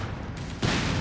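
Machine gun fire in the video game Company of Heroes 3, heard as a dense crackle of rapid shots that swells sharply louder partway through, with no talk.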